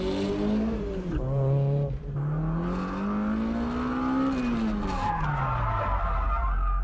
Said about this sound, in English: I'm pulling the e-brake too long, letting the car slide too much